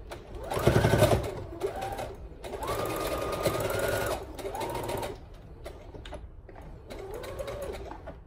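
A sewing machine runs in several bursts while stitching a finished seam on a small fabric market bag, its motor whirring steadily between short pauses and quieter handling sounds.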